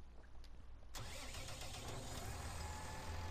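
A medium tractor engine in Farming Simulator 19 cranks briefly, then catches and settles into a steady, rumbling idle that fills the rest of the moment, loud and close with no talk.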